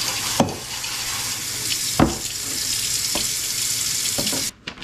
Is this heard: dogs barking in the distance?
no